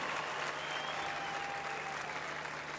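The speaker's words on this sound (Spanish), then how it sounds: "Fuerte aplauso a todos los que tocaron y a los que vendrán." A rock concert crowd in Montevideo applauds the musicians in a continuous wash of clapping and cheering, steady and fairly distant, with a faint sustained tone underneath.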